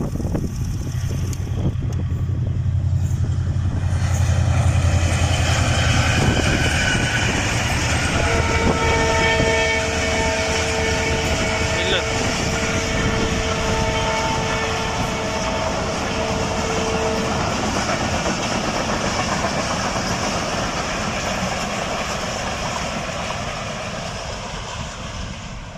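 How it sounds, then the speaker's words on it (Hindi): An 18 Down Millat Express train passes Gharo railway station, an abandoned rural stop. A loud, continuous rumble of rolling wagons runs throughout, with sustained horn blasts in the middle stretch, and the noise fades slightly toward the end. "अब आ रही है 18 डाउन मिल्लत एक्सप्रेस"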